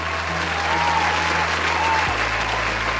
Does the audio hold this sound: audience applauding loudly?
yes